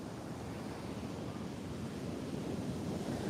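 Sea waves roll and wash steadily onto the shore, a dense continuous rumble with wind noise throughout and no voices.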